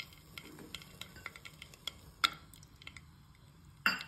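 Cashews fry in one or two spoons of ghee in a pan: a faint, quiet sizzle with light ticking and two sharper clinks of a spoon against the pan.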